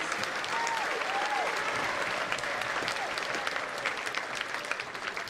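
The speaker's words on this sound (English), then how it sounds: "Can we give her another round of applause?" A school gym crowd applauds for a retired master sergeant at a Veterans Day assembly, sustained dense clapping at steady loudness with a few rising cheers or voices faintly mixed in.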